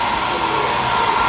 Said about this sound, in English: here we have a blow dryer for right now when I'm just coming out from the shower